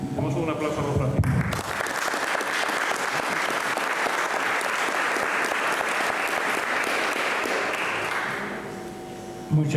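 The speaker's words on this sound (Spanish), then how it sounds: "Demos un aplauso a don Francisco." An audience at a talk on Saint John Paul II's legacy in Jewish-Christian relations gives a welcoming applause. A voice speaks briefly, then loud, sustained clapping runs for about seven seconds before thinning out as a voice returns.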